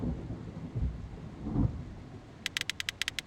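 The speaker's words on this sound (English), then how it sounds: "It's raining very heavily outside. The thunder is also very loud." Heavy rain hisses steadily in a video game scene, broken by two low rolls of thunder early on, then a quick run of sharp clicking ticks near the end.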